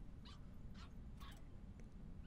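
Cartoonish puppy barks from a legendary dog emote in Overwatch: three or four short, high yipping bursts spaced about half a second apart, moderately faint over steady low game background noise.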